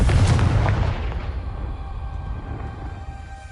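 In the video game Hogwarts Legacy, the Confringo blasting spell sets off a loud deep explosion with a heavy booming hit that rumbles away over a few seconds.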